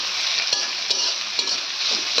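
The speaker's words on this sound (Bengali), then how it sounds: "দারচিনি আর এলাচি দিয়ে এখন আবার লাড়াচাড়া করব" Garam masala, bay leaf, cinnamon and cardamom fry in a pan while being stirred, giving a bright continuous sizzle with several scraping stir strokes at irregular intervals and no talk.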